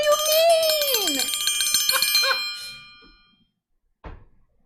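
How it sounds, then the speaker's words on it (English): A bell rung several times in quick succession, bright and loud with ringing overtones that swoop down and fade, followed by a short silence and a single dull knock. "She likes this bell too much."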